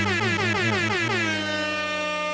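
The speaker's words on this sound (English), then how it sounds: "Air horn" A loud, blaring air horn sounds in one sustained blast, wavering at first before holding steady, close and piercing.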